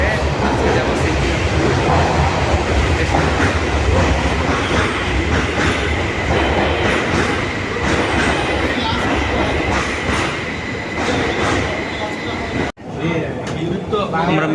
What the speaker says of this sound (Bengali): এখানে আমরা মেট্রোর জন্য অপেক্ষা করতেছি, মেট্রো আসবে